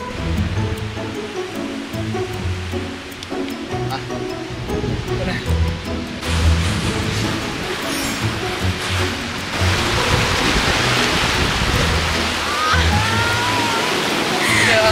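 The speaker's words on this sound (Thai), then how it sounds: "คลื่นแรงมากแล้วคลื่นมาทางนี้ใช่ไหม" Strong sea waves crash and roll around a boat in a steady, loud wash of surf that swells further toward the end, with voices talking over it.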